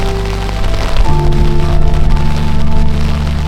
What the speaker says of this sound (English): It was really heavy rain